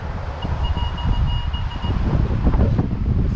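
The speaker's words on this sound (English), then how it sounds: "It's windy." Gusty storm wind buffets an outdoor microphone in Oakland's Temescal area, a steady low rumble with surges and bursts throughout, loud and close, with faint tonal whines above.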